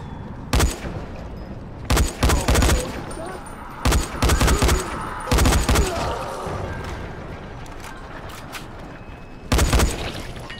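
Bursts of gunfire in the zombie survival game Dying Light, arriving as loud clustered volleys separated by quieter gaps of ambient rumble, with a final burst near the end; faint talk sits underneath.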